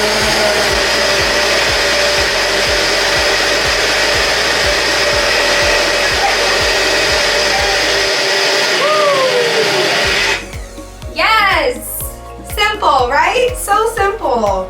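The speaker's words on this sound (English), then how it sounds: "I'm going to put all this into my little Bella, or into your blender, into your bullet" A small bullet-style blender whirs at high speed mixing vegan pancake batter, loud and steady for about ten seconds, then stops as a voice begins talking.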